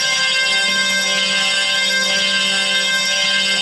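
A self-cranked hurdy-gurdy with sympathetic strings runs with a steady, dense, buzzing drone of many sustained string tones, loud and continuous, with no voices.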